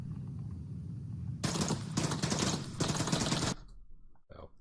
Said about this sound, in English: So let's see what happens when Chief pre-fires this.